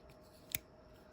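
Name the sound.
multitool scissors opening and closing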